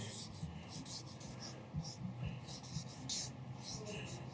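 Marker strokes scrawling a large word on a board, a run of short dry squeaky rubs coming close and fairly clear, with low room murmur underneath.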